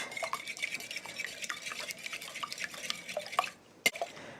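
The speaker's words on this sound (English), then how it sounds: "we're going to mix the eggs by themselves" Room-temperature eggs whisked alone in a bowl, a steady run of light clinking taps and wet stirring strokes close up, briefly pausing before one sharp knock near the end.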